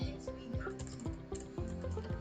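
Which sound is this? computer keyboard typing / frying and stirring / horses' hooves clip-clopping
computer keyboard typing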